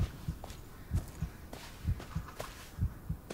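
Steady double-thump heartbeat from the Blair Witch horror game, with paired low beats recurring about every second, clear and rhythmic over faint ambience.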